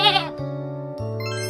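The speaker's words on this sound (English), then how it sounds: "Goat." A goat bleats in a children's animal-name learning piece, with a short high cry followed by a steady wavering tone alongside a sustained, jingly musical backing.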